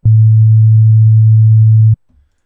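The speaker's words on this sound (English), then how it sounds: "we have our sine wave" A steady low sine wave test tone, recorded as input for a low-bit audio converter demonstration, holds loud and unchanging for about two seconds, then cuts off abruptly into near silence.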